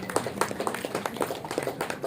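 An audience at a stage event for a Women's Day celebration claps in a loose, uneven burst of moderate applause.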